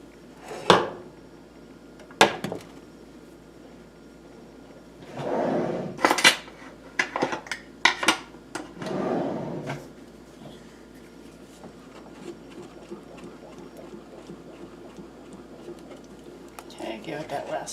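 Macaroni pasta is stirred in a pot, giving several close clattering scrapes and knocks of a utensil against metal, spaced out with quieter gaps, while a person talks in between.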